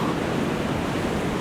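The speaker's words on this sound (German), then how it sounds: "Das Wasser war schwarz, es toset und schaumet." A dark, stormy sea with foaming waves makes a loud, steady roar of surf, a dense rushing wash with no breaks.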